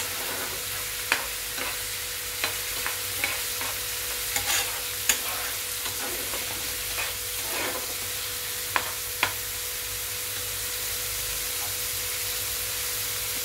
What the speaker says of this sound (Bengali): নাড়াচাড়া করে মশলাটা কষিয়ে নিলাম।